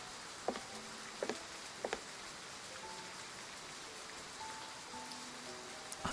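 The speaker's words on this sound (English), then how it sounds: "As raindrops suddenly fall" Soft, steady rain patters in the Throne of Eros video game, a quiet continuous wash with a few sharper drips and taps scattered across it.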